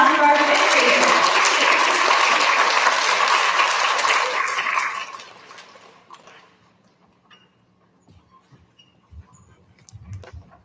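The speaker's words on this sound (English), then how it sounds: "Big round of applause for our fifth grader." A school recognition ceremony audience gives a big round of applause for a fifth grader, loud and dense for about five seconds before it fades to scattered claps and quiet room noise.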